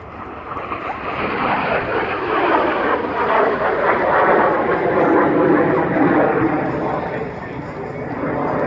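Loud, steady roar of an Alpha Jet's twin turbofan engines, sustained throughout with a slight swell in the middle, with a crowd faintly audible underneath.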